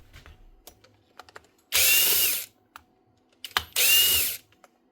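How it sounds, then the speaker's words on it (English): A cordless drill spins out screws from a Bosch GDX 18V-200C impact driver in two short, loud whirring bursts of under a second each, separated by quieter clicks and handling noises. "So you have to pull out these four screws in."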